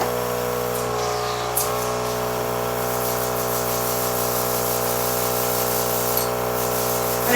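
An airbrush sprays fantasy makeup onto a face with a steady hissing airflow over a constant humming compressor drone, continuous and close, with slight changes in the spray.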